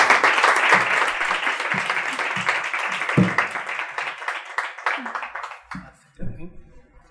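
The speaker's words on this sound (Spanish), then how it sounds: "Un aplauso para ella" Audience applause at a talk, a dense burst of clapping that thins and fades over several seconds, with scattered voices speaking as it dies away.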